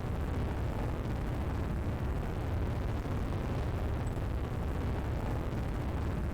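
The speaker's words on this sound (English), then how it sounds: "It's like watching a real launch." A rocket launch in SimpleRockets 2 rumbles as a continuous, deep, even roar, heavy in the low end and held steady without breaks.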